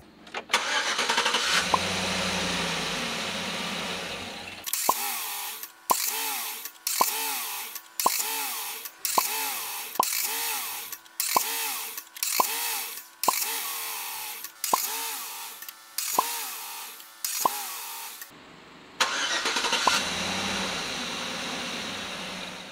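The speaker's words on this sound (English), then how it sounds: "let's see how many times it can kick over my V8 before it dies" A V8 car engine powered by a TopDon JS2000 jump starter cranks over and over in a long series of evenly spaced starter bursts, framed by engine running before and after, loud and close.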